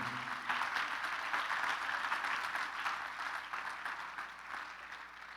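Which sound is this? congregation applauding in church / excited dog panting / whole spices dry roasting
congregation applauding in church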